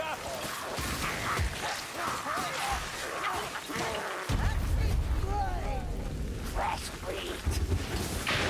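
A fire barrel explodes in Warhammer Vermintide 2 with a loud crashing burst around the midpoint, followed by crackling fire and rumbling in-game combat noise.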